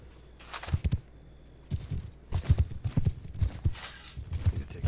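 Horses in the battle game Bannerlord pound the ground in irregular bursts of heavy hoofbeats, close and fairly loud, with brief gaps between the clusters.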